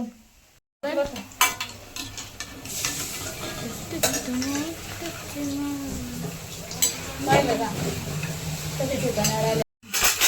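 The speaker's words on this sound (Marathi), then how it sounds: "इथे आता आहे ना भजे तळती आहे" Bhaji fritters frying in a pan of oil in a home kitchen, a steady sizzle running throughout with clinks of a utensil stirring and lifting them, brief gaps of silence at the start and end, no talk.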